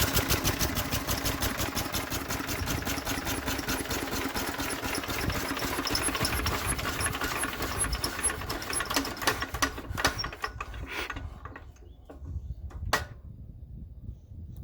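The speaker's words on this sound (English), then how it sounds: "there you have a 1936 International Harvester LA engine brought back to life" A restored 1936 International Harvester LA stationary gasoline engine runs in a garage with a rapid, steady chugging that slows and fades out as it is shut down, ending in a few final sputters.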